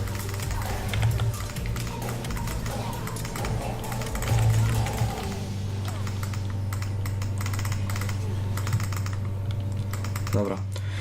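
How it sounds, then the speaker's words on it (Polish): Rapid keyboard typing and occasional mouse clicks patter continuously at close range while playing League of Legends, with a steady low hum underneath. "teraz słychać znacznie mniej moją myszkę i klawiaturę"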